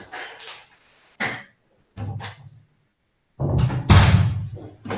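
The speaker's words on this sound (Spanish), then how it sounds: "Bánquenme un cachito que cierro la puerta." A door is pushed shut in an office, its thump and rattle landing in a loud burst near the end, following short stretches of faint background noise.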